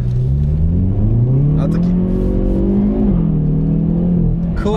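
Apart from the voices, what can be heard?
Hyundai i30N DCT car engine accelerating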